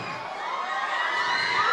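A lively crowd at a live show in Milan shouting and cheering, loud and sustained, with high excited voices throughout.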